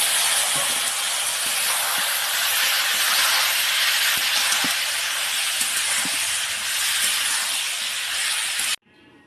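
A loud, continuous hiss of vegetables sizzling in hot oil, steady throughout with faint crackles, ending in an abrupt drop.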